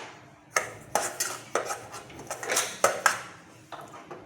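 Semolina is stirred while it dry-fries in a pan, and a utensil scrapes and knocks against the metal in a series of sharp clinks and scuffs at an uneven rhythm. The sounds are close and moderately loud, with no talking.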